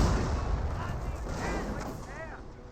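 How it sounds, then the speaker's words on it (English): Rifle grenades firing in the World War II strategy game Company of Heroes, heard as dense, continuous battle noise with booming low rumble and scattered whistling shots, steady and fairly loud throughout under commentary talk. "Rifle grenades now firing away."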